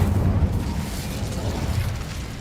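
Incendio fire spell from the video game Hogwarts Legacy, a dense rumbling burst of flame with a boomy low roar that holds steadily for a couple of seconds, loud and close with no voices.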